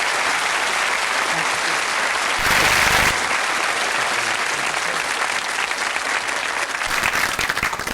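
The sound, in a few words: studio audience applause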